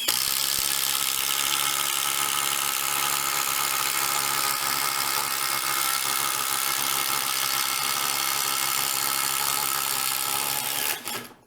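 A FLEX 24V brushless impact driver runs continuously as it drives a screw into wood, a loud steady mechanical whir held for about eleven seconds before cutting off abruptly.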